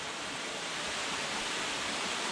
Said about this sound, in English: we've got a little waterfall just at the start here